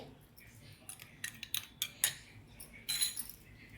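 A metal spoon clinking against a container while scooping a little soda for dal kachori dough, several light, close taps and scrapes in a quiet room.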